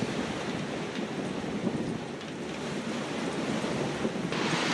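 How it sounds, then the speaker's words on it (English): Strong ocean waves churn around a double-reefed sailboat in rough Bahamas seas with 22-knot wind, a steady loud wash of surf and wind noise buffeting the microphone throughout. "The waves are strong."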